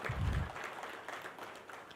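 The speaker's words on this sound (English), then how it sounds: "Let us give a warm round of applause to all our recognition recipients for their exemplary support." Ceremony audience applauds award recipients, a soft, somewhat distant patter of clapping following a low thump, fading slightly over the two seconds.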